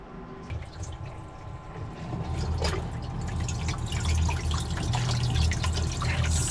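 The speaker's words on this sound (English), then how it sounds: "Hey, it's got water flowing back there." Water trickles and drips inside a Garvee ice maker in a DIY summer kitchen, a soft steady flow with scattered drip sounds heard up close and alone, without talk.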